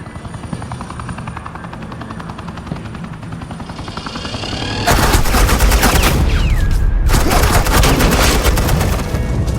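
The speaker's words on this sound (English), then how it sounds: "suppressing fire" Video game gunfire lays down suppressing fire in Batman: The Enemy Within, with rapid automatic bursts cutting in loudly after a whirring, helicopter-like drone, in two long stretches split by a brief pause.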